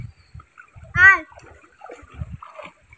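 Children splashing while learning to swim in a pond: soft intermittent splashes and water sloshing close by, with children's voices and a short loud shout or cry in between.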